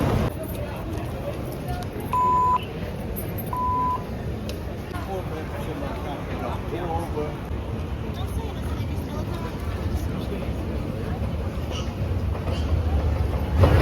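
Transit card reader at a station in Hoofddorp, Netherlands, giving two short, clear electronic beeps a second or so apart amid steady crowd and station noise.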